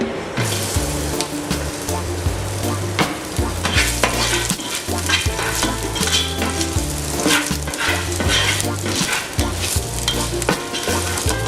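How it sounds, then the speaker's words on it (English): Ginger sizzles loudly in hot oil in a pan while a utensil stirs and scrapes steadily, cooking for chicken biryani; close, continuous frying with rhythmic scraping and no voices. "We'll add in my ginger."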